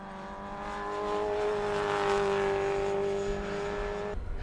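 Formula Ford race cars rush past at speed, a loud sustained engine whine building and fading over several seconds before cutting off abruptly near the end.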